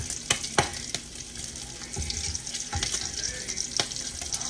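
Crispy, browned bacon frying in a pan gives a steady sizzle and crackle, joined by sharp clicks and taps of a utensil at irregular moments, close and moderately quiet, with no talk.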